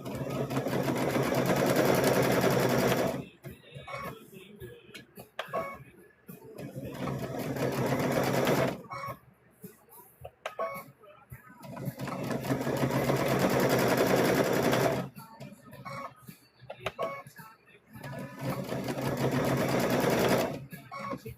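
A sewing machine stitches fabric for a mug rug in bursts of loud, fast, even whirring, with quieter gaps where a person talks.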